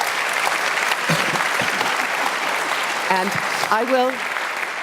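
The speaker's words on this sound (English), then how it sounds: "can we please give our panelists a very warm round of applause?" Warm audience applause for summit panelists on stage fills the room with dense, steady clapping, while a few spoken words cut in briefly over it near the end.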